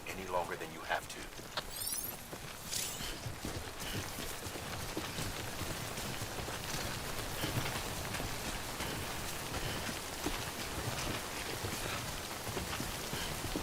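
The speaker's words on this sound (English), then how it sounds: "Don't stay out in the rain any longer than you have to." Timefall rain in the video game Death Stranding, a steady dense hiss of rainfall that runs throughout, with a few brighter splashy transients near the start and game voices and sounds layered beneath.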